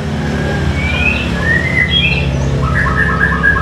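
A white-rumped shama (murai batu) songbird sings a series of clear whistled phrases and chirps, loud and close, over a low steady background hum.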